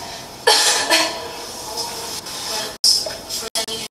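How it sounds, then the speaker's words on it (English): A person coughing several times in quick, sharp bursts close to the microphone, with brief silent gaps between the later coughs and a low background hiss. "Okay, now cough."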